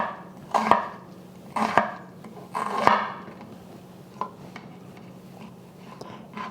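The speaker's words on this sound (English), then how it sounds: "I'm just going to slice my onion from top to bottom" A knife slicing an onion from top to bottom on a cutting board, three distinct crunchy cuts spaced about a second apart, followed by a couple of lighter taps, close and clear over a faint background hum.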